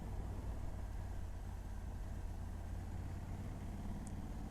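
A Honda Africa Twin 1100 Adventure Sports 2020 with an automatic gearbox runs as a steady, even engine and road drone throughout, with no talk and no clearly distinct shift event.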